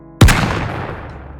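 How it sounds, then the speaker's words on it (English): A single explosion from the mech video game Armored Core 6 hits with a sharp, loud crack and deep boom, then rolls off into a rumbling tail lasting about a second. "Listen to this explosion sound."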